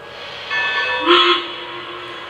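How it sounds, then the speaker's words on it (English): A Lionel Legacy 2-6-6-2 Mallet model train sounds two bells and a short whistle, with bright ringing tones swelling briefly over a steady mechanical hum. "You must hold it for at least 3 seconds until you hear 2 bells and a whistle."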